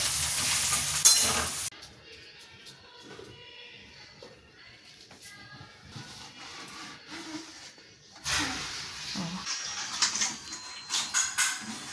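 Tomatoes drop into a hot frying pan and set off a loud sizzle that quiets into a softer simmering hiss, then flares up again with stirring and pan scrapes near the end.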